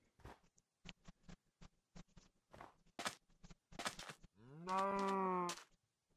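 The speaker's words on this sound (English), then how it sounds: "Hey, moo cow." A Minecraft cow gives a long, loud, drawn-out moo near the end, following a series of short, evenly spaced footsteps and small clicks.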